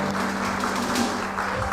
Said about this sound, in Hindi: एक दफ़ा बहुत सारी तालियां इन तीनों के लिए।